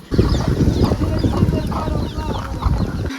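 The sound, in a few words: small chicks clucking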